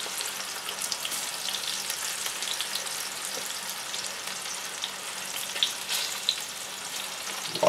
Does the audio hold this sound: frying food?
yes